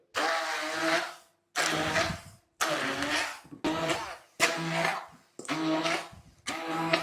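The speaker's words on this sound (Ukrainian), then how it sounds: "Тепер візьмемо блендер і гарно переб'ємо це до однорідної такої маси блендеру" A loud blender whirs through a cheese filling in repeated bursts, about seven pulses separated by brief pauses, with no talking.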